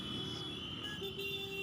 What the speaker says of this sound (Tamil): காதில் கேட்க முடியாத அளவுக்கு இன்ஜின் சவுண்டும் ஹார்ன் சவுண்டும்.